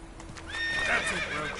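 Geralt's horse Roach in The Witcher 3 whinnies and snorts at close range, a short neigh rising over faint hoofbeats, with no talk.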